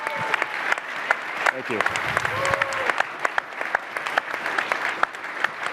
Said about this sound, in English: can we just give him an applause about his leadership?